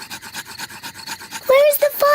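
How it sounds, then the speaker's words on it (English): Two sticks rubbed together to make fire outdoors at a picnic campsite, giving a quick series of soft rhythmic rasping strokes, close and fairly quiet, followed by squeaky tonal sounds near the end. "I'm going to make fire the old way by simply rubbing these two sticks together."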